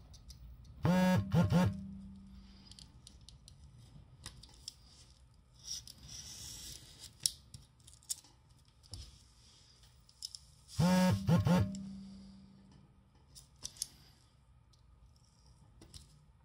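Scissors cutting paper for a papercut design of Matsumoto Castle: quiet, intermittent snips and scrapes, with two louder, brief bursts of rustling and squeaking close to the microphone.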